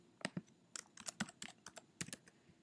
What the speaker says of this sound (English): So if I type in assignments and points,